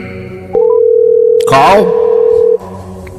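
A telephone call being placed, with a short tone followed by a long steady dial or ringback tone lasting about two seconds, under a brief burst of a voice.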